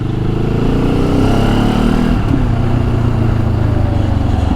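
A Benelli TRK 702 X motorcycle is ridden at a steady pace, its engine giving a loud, continuous drone close to the listener with a slight change in pitch about halfway through.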